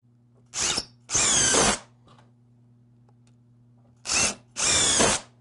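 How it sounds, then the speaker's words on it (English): Four short bursts of a power drill running at high speed, drilling holes in wood for a beehive stand, in two pairs separated by quiet, with a steady low hum in between. "And then just symmetrically just drill them in."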